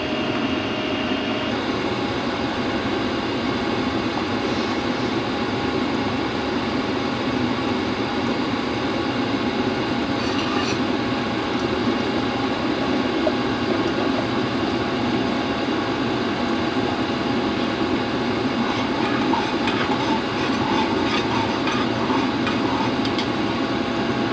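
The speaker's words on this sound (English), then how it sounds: "I never thought I'd have a diesel heater that would be this quiet" A WIPPRO diesel heater runs on its high setting with a steady, even hum and whir that holds unchanged throughout, moderately quiet, with a few faint clicks over the constant drone and no talking.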